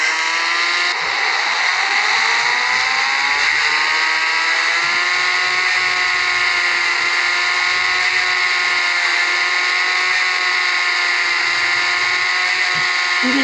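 A synthetic video game motorcycle engine drones continuously at high revs, its pitch sliding upward early on and then holding steady and loud.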